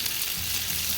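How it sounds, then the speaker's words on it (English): Beef steaks sizzle in a generous amount of cooking oil on a hot griddle, a dense steady crackling hiss heard close and alone for a brief moment. "I placed the steaks down on the griddle. I added a fairly good amount of cooking oil before I place each piece down."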